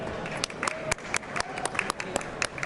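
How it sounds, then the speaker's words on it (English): A conference audience at an EdTech event applauds speakers with steady, crisp clapping, moderate in level, with a dense patter of hands and a few sharper claps standing out nearby. "give them a round of applause to Paul"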